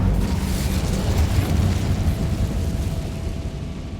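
A Hogwarts Legacy Incendio fire spell bursts into a steady, loud roaring whoosh of flame that rumbles low and sustains for several seconds before easing slightly.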